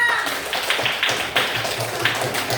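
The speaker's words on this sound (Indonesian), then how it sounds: "Oke, tepuk tangan buat kelompok Fiona." Classroom students clapping for a presenting student group in a lesson, a fairly close scatter of uneven individual claps, moderately loud and continuing without a break.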